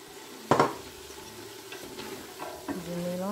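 Chicken with chopped leek and carrot stirred in a frying pan, a soft sizzle underneath with a spoon scraping and clinking against the pan in a few short strokes.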